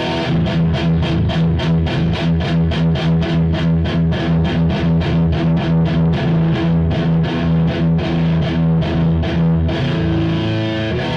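An electric guitar played through an M-Vave Tank G pedal with a PV amp model and diesel cab, giving a heavily distorted, fuzzy riff of rapid chugging palm-muted chords in a steady, loud, continuous stream without any voice.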